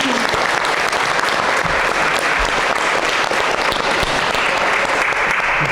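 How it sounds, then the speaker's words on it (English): Sustained, loud round of applause at a school board of education meeting, clapping steady and dense throughout with no break, honoring a student present with his mother. "if we could give a round of applause here"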